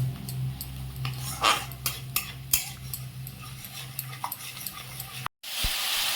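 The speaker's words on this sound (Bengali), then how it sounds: "পেস্টটাকে একটুখানি ভালো করে কষিয়ে নেব। এটা 1 মিনিট ধরে একটু কষিয়ে নেব।" Spice paste of tomato and ginger being sautéed in a pan for Bengali yogurt cauliflower, with a spatula clicking and scraping against the pan in scattered strokes over a steady low kitchen hum and a brief cutout near the end.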